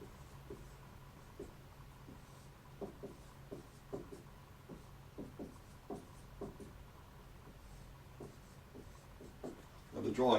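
Hand drawing of a graph with a pen or marker, faint scratchy strokes in short irregular bursts, quiet and close, with a louder scrape at the end.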